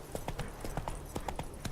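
Roach, the horse in The Witcher 3, gallops with rapid, evenly spaced hoof clip-clops, fairly faint and steady in a short burst.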